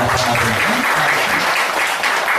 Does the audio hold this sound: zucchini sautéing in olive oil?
no